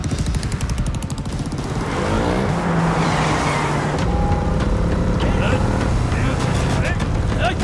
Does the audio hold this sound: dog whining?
no